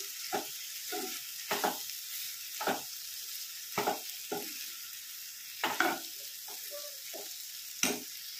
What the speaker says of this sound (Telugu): అదైతే వేసుకొని బాగా కలుపుకొని కొద్దిసేపు అయితే ఫ్రై చేసుకోవాలి